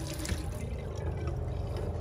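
Water runs steadily from the tap of a 1998 Fiat Ducato two-berth campervan fed by a pressure pump, making a soft continuous gushing splash heard close and fairly quiet.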